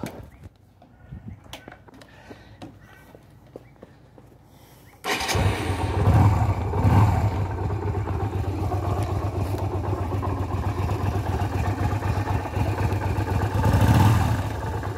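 A Yamaha Virago motorcycle engine cranks and catches after some quiet clatter, then settles into a loud, steady, throaty idle on its stock exhaust, with a brief rev near the end.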